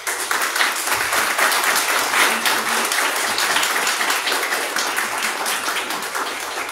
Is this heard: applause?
yes